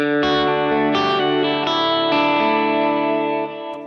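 An electric guitar rings out through a Kemper amp profiler rig, several strummed chords sustaining with a mid-heavy, slightly distorted, chorused sound, loud and continuous with no talking.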